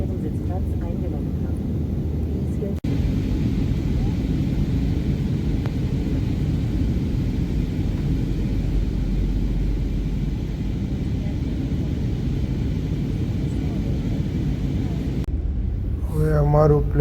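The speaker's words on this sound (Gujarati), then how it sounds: "હવે અમારું પ્લેન થોડી વારમાં જ જર્મનીમાં લેન્ડ થશે" Steady, loud broadband rumble fills an airplane cabin in flight shortly before landing in Germany, continuous throughout, with a brief quieter break near the end where a voice is heard.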